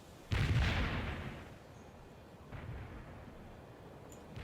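Artillery strike firing in World in Conflict, a loud booming blast with a long rumbling decay, followed by a fainter second boom under a steady battlefield hum.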